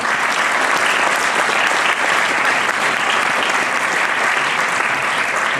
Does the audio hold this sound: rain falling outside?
no